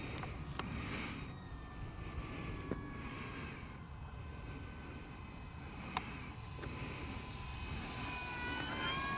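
A Durafly Excalibur V2 electric hotliner, a 1600mm V-tail model plane, whines faintly in the distance with a thin, wavering motor tone and repeated swells as it passes, over light outdoor background noise.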